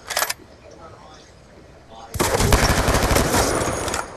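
Gunfire in Call of Duty Black Ops 2: a short opening burst, a quiet gap, then a long sustained stream of rapid automatic fire, loud and close, with a voice talking over the shots.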